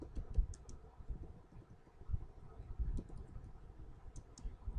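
Fingers type a website name on a computer keyboard in a quick, uneven run of soft close clicks and taps, fairly quiet, with no talking.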